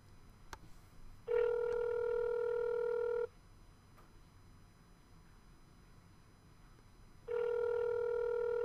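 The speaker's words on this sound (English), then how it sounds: "Ringing." Two long electronic telephone rings, each about two seconds, separated by a pause of low background hiss; clear and close.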